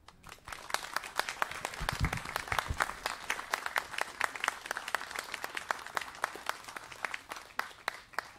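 A church congregation applauds after welcoming newly confirmed members, a sustained burst of many hands clapping at moderate distance, dense and even for several seconds.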